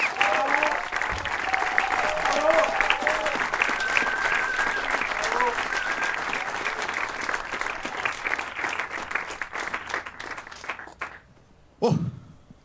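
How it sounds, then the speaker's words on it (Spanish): Loud, sustained applause from a neighbourhood crowd welcoming a puppeteer from Banfield, dense clapping with some cheering that fades toward the end before a short final burst. "les pido un fuerte aplauso para dar la bienvenida al titiritero de Banfield"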